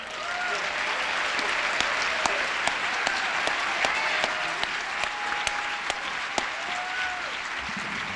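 Sustained applause from an audience at a Martin Luther King Jr. Day commemoration at Queens College, following a speech; steady dense clapping with a few sharper claps and faint voices over it throughout.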